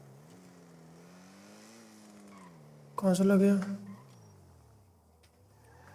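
Land Cruiser driven in GTA 5, a steady engine drone running under a speaking voice, with a sudden loud burst of revving or tire squeal near the middle before settling back to a low hum.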